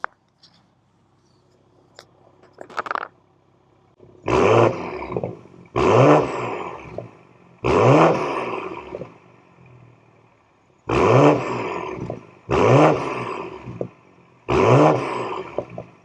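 A BMW M440i convertible fitted with an M Performance exhaust, top down, roars loudly through six repeated revving bursts, each swelling and dropping off with short quiet gaps between, heard up close with no talking.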